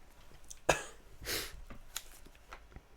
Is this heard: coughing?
yes